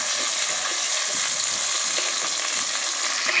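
Crushed garlic and green chillies fry in hot oil with a dense, continuous close sizzle and faint crackling while being stirred, and no one speaks.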